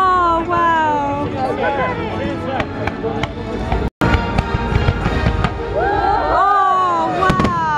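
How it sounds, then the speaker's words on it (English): Fireworks display at Epcot, Disney World: repeated bursts and sharp cracks pop at close range, mixed with crowd chatter and excited voices talking throughout. "they should do like a Mickey Mouse firework"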